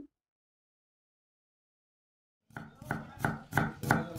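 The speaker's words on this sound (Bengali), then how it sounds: "পেঁয়াজগুলোকেও আমি অনেকটা টুকরো টুকরো করে কেটে নিলাম।" A knife chops onions into pieces on a board with about six steady, close thuds. The chopping begins suddenly after a long stretch of silence.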